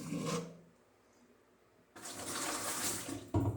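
Hot water runs while ingredients are rinsed into a wine carboy, a rushing pour in two bursts separated by a quiet gap, with brief rubbing and knocking at the end.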